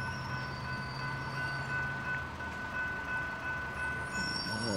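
A train approaches from far off, a steady distant rumble of rail wagons with faint high squealing tones from the wheels, heard continuously and alone.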